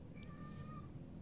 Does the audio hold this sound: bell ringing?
no